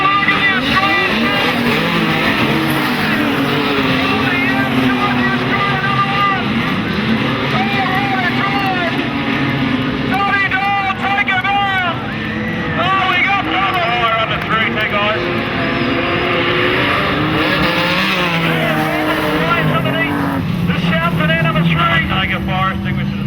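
Modified sedans race around Maryborough Speedway with loud engines revving and roaring continuously over one another, while an excited commentator talks over the racing throughout.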